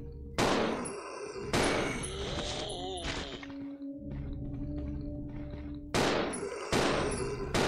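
Gunfire in the video game Resident Evil Zero: several loud sharp shots in separate bursts with ringing echoes and tonal game effects between them, no voices.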